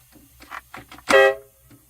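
Freightliner truck air horn gives a short honking blast near the end, after brief faint sounds, close and fairly loud.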